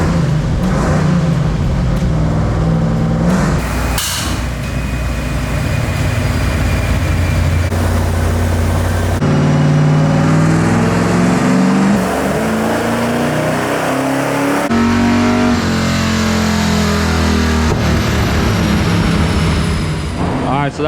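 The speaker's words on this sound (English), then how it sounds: "We got the 454 all strapped on the dyno. We were ready to start doing some pulls" A cammed 454 big block Chevy truck engine on a chassis dyno revs hard through repeated pulls, loud rising and falling roars with gear-like steps, close and dominant throughout.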